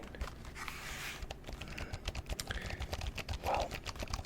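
Steady typing on a purple wireless mechanical keyboard, rapid close clacking keystrokes in an uneven rhythm with a few louder key hits, intimate and soft.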